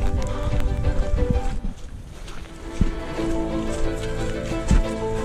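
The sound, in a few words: rain falling in woods during a run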